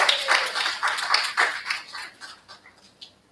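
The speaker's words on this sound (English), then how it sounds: "hopefully that wasn't the good applause." Brief clapping from a church congregation during a worship service, a short lively round of applause that quickly tapers off into a few last scattered claps.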